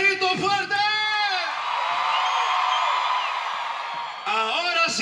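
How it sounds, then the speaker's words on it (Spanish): Concert crowd in a sold-out arena roaring and yelling loudly on cue from the stage, a sustained mass of whooping voices swelling after a brief shouted call from the singer and fading as he speaks again at the end. "todo el recinto, ese grito fuerte."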